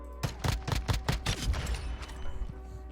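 Rapid bursts of gunfire in Call of Duty: Warzone, about half a dozen sharp shots in quick succession followed by fainter trailing fire, with no talk over it.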